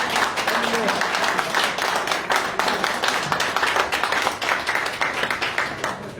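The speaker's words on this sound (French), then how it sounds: "Je pense qu'il mérite il y a un deuxième applaudissement." An audience at a Paris tribute evening for comedian Ahmed Benaïssa claps in sustained, dense applause, steady and fairly loud across the whole stretch with voices mixed in.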